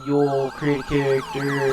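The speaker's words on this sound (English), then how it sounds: "And here it goes again, the siren." A downloaded police siren from the game FiveM wails in rising and falling sweeps, loud and close, repeating in several bursts while someone talks over it.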